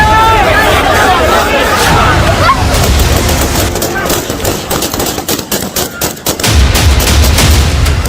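Gunfire crackles at Kabul airport amid a crowd in chaos, with bursts of rapid shots and sharp individual cracks over loud shouting and murmuring voices.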